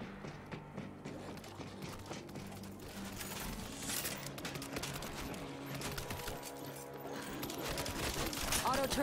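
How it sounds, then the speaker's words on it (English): Sustained machine gun turret fire in the World War Z game, set in Phoenix, a dense rattling barrage running the whole time and growing louder toward the end, mixed with game effects and faint voices. "Machine gun ready."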